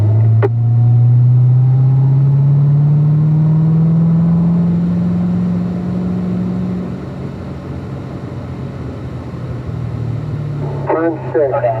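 A Corvette on the Spring Mountain Motor Resort track drones loudly through a turn, the engine note rising steadily then easing off, with faint voice chatter around it.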